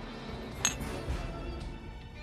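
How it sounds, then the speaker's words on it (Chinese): Glasses clink once in a toast, a single bright, close chink over a quiet room background. "来，贵哥，干杯"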